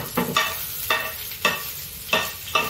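Garlic frying in oil in a pan, with sizzling broken by five sharp, close stirring scrapes at an uneven rhythm and no voices.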